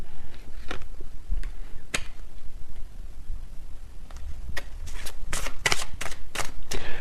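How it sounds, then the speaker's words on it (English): Oracle cards riffle and slap in quick bursts, close up, with a faint low rumble underneath and a rapid flurry of shuffling near the end. "when I shuffle this messages deck"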